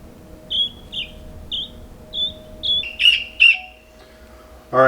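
A guinea keet, just lifted out of a brooder, gives a run of about eight short, high chirps at a steady pace, close and fairly loud, the last few sharper and more strained, ending with a brief louder burst.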